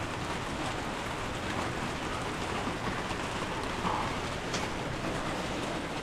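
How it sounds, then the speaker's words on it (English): Steady rain falls outdoors, a dense continuous hiss with no pauses or change in level, close and fairly loud, with no voices. "Look at the rain."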